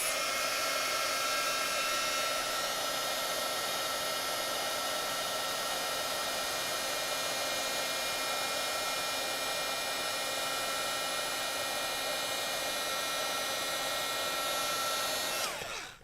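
A heat tool heat-sets stamped ink on a handmade card with a steady whirring blow and a faint motor whine. It runs evenly, then cuts off abruptly at the end.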